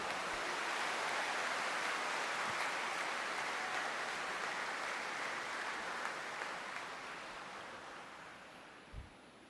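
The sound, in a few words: congregation applauding during church mass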